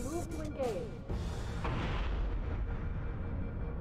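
Weapons fire in Halo: Combat Evolved Anniversary, heard as a burst of booming shots and rumbling blasts, with a voice speaking briefly near the start.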